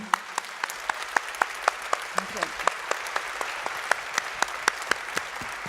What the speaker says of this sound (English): Let us now applaud this legendary hero, Shabash Karapetyan